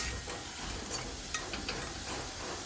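Fenugreek leaves wilting in a little hot oil give off a steady, close, broadband sizzle, with a few faint scrape ticks of stirring throughout.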